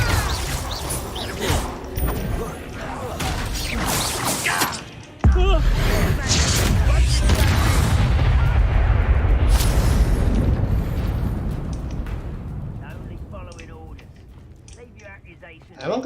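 A Confringo spell detonates in the video game Hogwarts Legacy, with one sudden loud blast followed by a heavy, sustained roaring rumble that slowly fades over several seconds.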